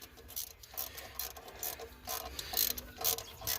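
A ratchet tightening valve cover bolts on an engine, a run of quick clicking ratchet strokes in uneven bursts, close and fairly loud, with no talking.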